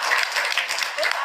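A brief patter of clapping from a small group, faint and quick, lasting only about a second.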